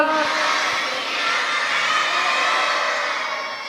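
Sikh gathering crowd, with many children, roaring a jaikara response in unison, a single sustained shout of voices held for a few seconds before fading.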